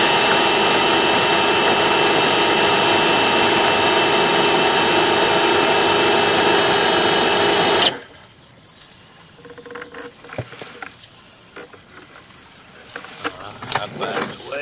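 Ridgid flex shaft drain cleaner scraping grease inside a sewer line, a loud steady whirring roar for about eight seconds that cuts off abruptly, leaving faint scraping and knocking.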